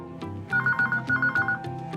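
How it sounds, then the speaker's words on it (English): A landline telephone rings at the other end of the line, heard through the handset as repeated electronic trilling bursts over a steady tone, clear and alone. "as soon as I hear the phone ring at the other end"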